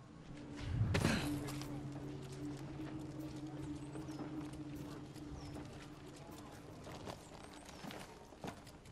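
In the video game Ghost of Tsushima, a horse's hooves clop along at a quick pace, fairly faint beneath game sounds, with shouting voices around it.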